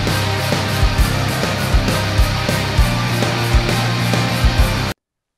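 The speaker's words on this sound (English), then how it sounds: "this is the sound of a rock band." A rock band plays loud and dense with steady, punchy drum hits throughout, then cuts off abruptly near the end.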